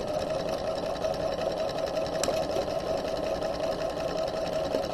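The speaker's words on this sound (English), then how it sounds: "Back stitch, sew down the dart leg" A sewing machine runs steadily, stitching down the leg of a dart on a garment during sleeve construction, with a continuous close-up whir and no talk over it.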